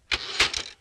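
A manual typewriter carriage return during a 1960s touch-typing drill: a brief mechanical zip and clatter with a sharp clunk in the middle, close and fairly loud, under a second long.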